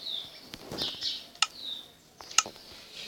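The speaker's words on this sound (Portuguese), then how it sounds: "barulho de passarinho, um vento" Small birds chirp outdoors beside a house with a light wind blowing, giving thin high tweets and a few sharp calls over soft breezy hiss, fairly close.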